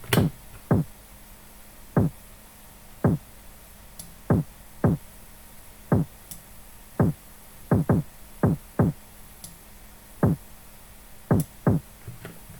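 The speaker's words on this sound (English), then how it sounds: "Right, so that is the kick, and really simple." A punchy, gritty distorted kick drum thumps alone in an uneven pattern, sometimes in quick pairs, with faint hiss between hits.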